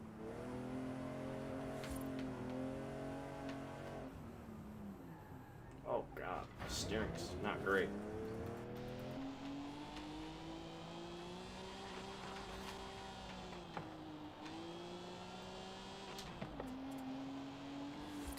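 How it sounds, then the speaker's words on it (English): A loud car engine drones steadily from the cockpit view in Forza Horizon 5, with pitch rising and falling as it revs through a winter-season drive, while someone talks over it throughout. "This thing is so loud in the cockpit"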